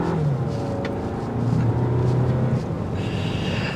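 A 2024 Volkswagen Tiguan SE R-Line's 184-horsepower turbo four-cylinder accelerates in Tiptronic mode, a steady muffled engine drone with rising tone heard from inside the cabin.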